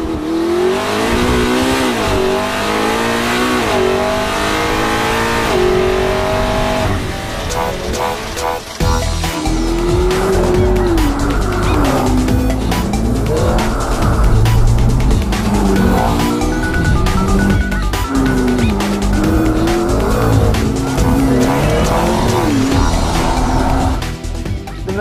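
A McLaren MP4-12C driven hard, its engine rising and falling through repeated revs and gear changes, with intermittent tire squeal and skidding, loud and close throughout.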